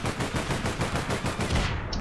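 Rapid automatic gunfire in the online shooter APB, a continuous loud burst of rattling shots that carries on for about two seconds before cutting off, with no talking over it.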